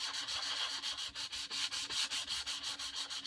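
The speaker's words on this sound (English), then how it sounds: "Bit of sandpaper. Rub across the grain a little bit." Sandpaper is rubbed by hand across the grain of a wooden door, making a quiet, close scratchy rasp in quick, even back-and-forth strokes with a steady rhythm and no talking.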